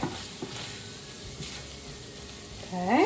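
Flour stirred into hamburger meat and onions frying in their grease in a pan, with a continuous sizzle and light scraping strokes; a voice speaks briefly near the start.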